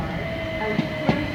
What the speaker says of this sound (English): You'll see plenty of C2C services and freight trains.